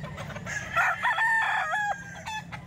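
A Hatch Gray gamefowl rooster crows once, nearby and clear, a full cock-a-doodle-doo rising and trailing off over a low background hum.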